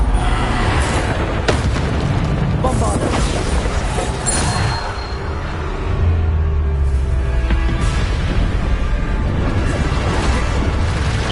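Explosive blasts from the Bombarda spell in Hogwarts Legacy, a dense run of booming impacts and crashing bursts packed over continuous combat noise, loud and close throughout.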